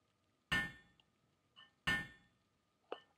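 Hammer strikes while building a base in the Palworld video game, two sharp ringing impacts each followed by softer clinks, spaced about a second and a half apart, clear and alone.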